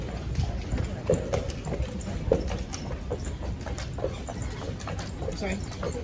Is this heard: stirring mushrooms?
no